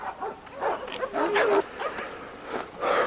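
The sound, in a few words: red dogs with black mask in yard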